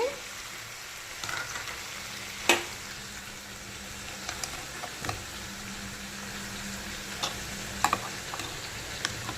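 Curry frying in a pan with ginger garlic paste added, heard as a steady low sizzle with occasional sharp utensil clicks and taps as it is stirred, with no one talking.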